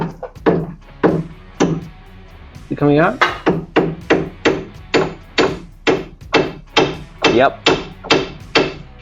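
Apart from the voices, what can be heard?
hammering out suspension bolt on Triumph TR7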